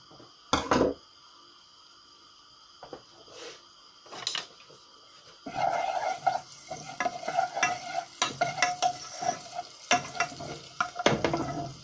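Herbs hit hot olive oil in a pan and sizzle while being stirred, with soft scraping and clatter as the frying grows steadier and louder.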